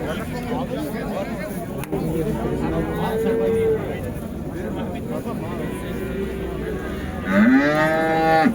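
Cattle low with long, drawn-out moos at the Shymbay livestock bazaar. Two clear calls rise over a steady murmur of crowd chatter and talking.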